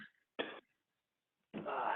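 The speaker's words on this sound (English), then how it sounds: "I hope it's not a corona cough there." Two coughs break out during a board of selectmen meeting, a short sharp one followed after a pause by a longer, rougher cough.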